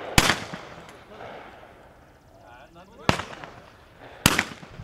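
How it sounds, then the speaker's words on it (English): Shotgun blasts at a clay-target charity shoot at a sportsmen's club, with skeet, trap and five-stand shooting: three sharp, loud reports spaced a few seconds apart, each followed by a brief echoing tail, with faint background murmur between them. "The annual Cops and Clays charity shoot held by the North Macomb Sportsmen's Club went off with a bang."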